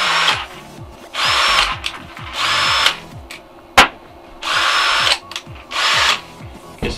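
An Einhell TE-CD 18 Li cordless drill spins at 1,400 rpm in second gear, whirring loudly in four bursts of a second or so each with short pauses between, plus a sharp click near the middle.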